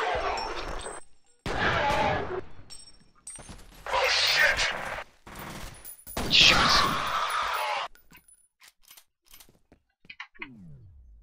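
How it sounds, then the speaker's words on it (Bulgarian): A pump-action shotgun fires in the F.E.A.R. video game, with several loud, harsh blasts about a second long separated by short gaps, then quieter scattered clicks. "Много мощна помпа има, обаче."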